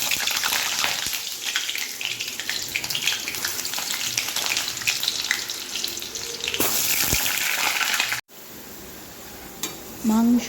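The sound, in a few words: mutton frying in mustard oil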